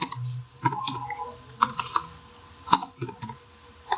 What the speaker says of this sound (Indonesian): Kita bisa ketikkan seperti ini, tanda kutip John